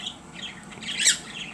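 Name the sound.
finches calling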